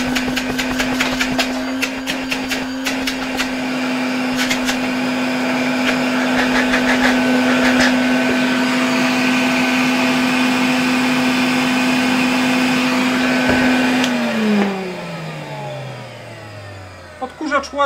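A 1966 Elector vacuum cleaner runs on a workbench with a loud, steady motor whine and blowing air, then powers down as the pitch sinks and the hum fades near the end.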